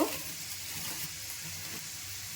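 Ground turmeric and coriander sizzle in white cooking oil as a faint, even hiss that stays steady throughout without any speech.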